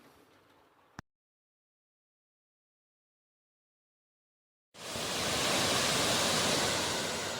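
After a short quiet gap, a dense, steady roar of rushing water from Rainbow Falls in Transylvania County, North Carolina, begins abruptly and continues loudly, like a waterfall heard up close.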